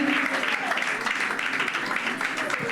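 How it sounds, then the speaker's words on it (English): Audience applause for business pitch participants at an SME support event, a dense steady wash of clapping lasting the whole moment, fairly close, with voices mixed in underneath. "Ladies and gentlemen, a round of applause to all of them. Please clap for them now."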